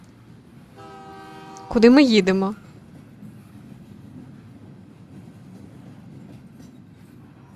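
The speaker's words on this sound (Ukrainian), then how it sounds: "Що за потяг?" A train in the video game The Stillness of the Wind rolls along with a steady low rumble, and a short horn-like blast sounds partway through. A voice speaks briefly over it just before the blast.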